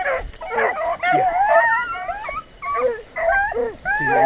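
A pack of beagles runs a rabbit track during a rabbit hunt, baying and yelping in overlapping, rising howls that are close and loud, with one short spoken word among them.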